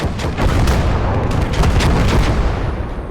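Gas tanks explode in a battle amid gunfire, a dense, continuous roar of booms and shots with heavy low rumble, loud and sustained throughout with no clear pauses.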